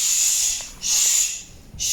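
A mother cat hissing at a kitten hiding under a kitchen cabinet in a house in Bali: three sharp, breathy hisses, loud and close, separated by brief quiet gaps.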